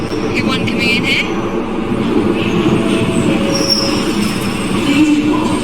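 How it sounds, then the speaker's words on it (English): A subway train pulls into Buchanan Street station in Glasgow with a steady rumbling roar and high wheel squeals echoing along the platform, while people talk faintly. "we might get a scenario where both trains come in"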